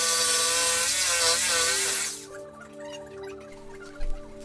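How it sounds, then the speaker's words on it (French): Jigsaw cutting through wood for a wooden toilet seat, a loud buzzing blade cut for about two seconds, then the motor winds down and idles before a brief knock near the end. "Je vais faire toutes les découpes à la scie sauteuse."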